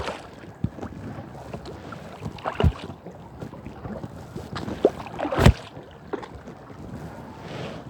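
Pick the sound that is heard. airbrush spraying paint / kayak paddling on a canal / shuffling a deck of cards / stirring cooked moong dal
kayak paddling on a canal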